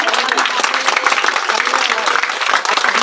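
An audience applauds a performance at a therapists' gathering, with steady, dense clapping that fills the whole moment at an even, loud level.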